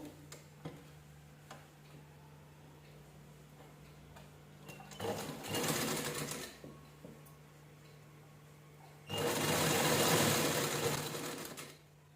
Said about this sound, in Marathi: व्यवस्थित असं इथे ठेवायचं आणि स्टिच करून घ्यायचं